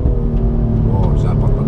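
BMW M2 driven hard, with a loud steady engine roar filling the cabin and a few sharp exhaust pops crackling over it toward the end.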